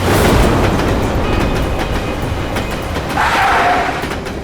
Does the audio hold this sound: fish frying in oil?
no